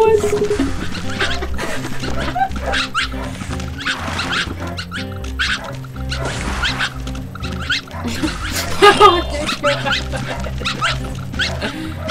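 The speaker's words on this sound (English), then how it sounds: "Who wants chihuahuas? Chihuahuas for everybody." Many chihuahua dogs bark and yap continuously in the video game Goat Simulator, a dense, loud clamour of overlapping barks mixed with other animal-like game sounds.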